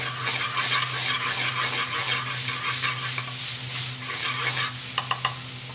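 Dried kasoori methi and onions fry in oil in a pan on high heat, giving a steady close sizzle with rhythmic stirring scrapes and a few metallic utensil taps near the end, no talking.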